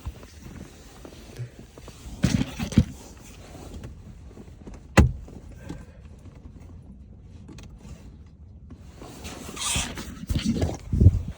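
A dashboard trim panel on a Lexus IS350 is pressed back into place after a CarPlay upgrade, giving scattered close plastic rustles and knocks with one sharp snap midway and more fumbling clicks at the end.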